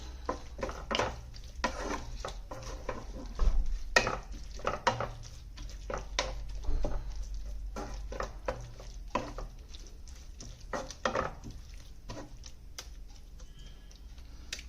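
A spoon works through mushroom masala in a pan, giving irregular scraping and tapping strokes at close range over a quiet low hum. No one speaks.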